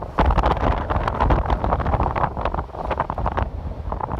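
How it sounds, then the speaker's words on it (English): Strong, steady wind buffets the microphone on a Colorado Trail backpacking route, a loud continuous rumble and roar with gusty surges and no speech. "It is windy!"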